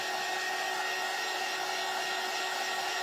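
A hair dryer blows steadily on a freshly made print, a continuous close whirring hiss that holds an even, unbroken tone from start to finish.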